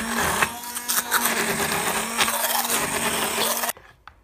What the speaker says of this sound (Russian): Все составляющие я соединю погружным блендером.